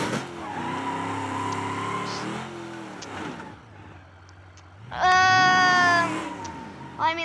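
A damaged car engine in the BeamNG.drive video game runs roughly, its pitch rising and falling with throttle, then surges into a loud, strained rev with a squealing whine before dropping off.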